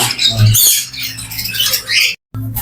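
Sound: lory parrots squawking

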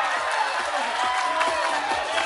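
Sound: wedding guests applauding

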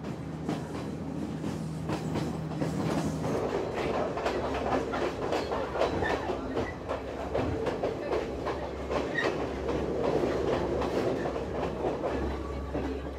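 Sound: train journey in Sri Lanka

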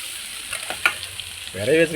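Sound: fish being added to hot pan and frying for fish puttu

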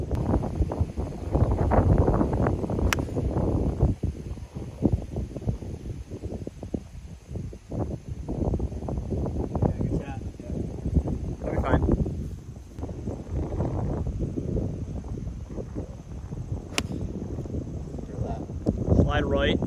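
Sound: wind blowing on a golf course

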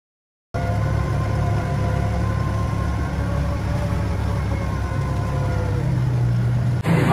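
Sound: buggy engine idling at airpark

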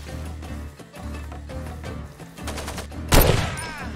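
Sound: gunfire in video game Far Cry 2

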